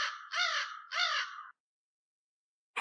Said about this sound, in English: crow noises